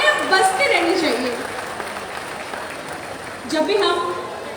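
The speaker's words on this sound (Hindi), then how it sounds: "इनके लिए तालियां बजती रहनी चाहिए" Audience applause at the Thawe Mahotsav stage event in Gopalganj, with bursts of clapping rising and fading under an announcer speaking over a loudspeaker.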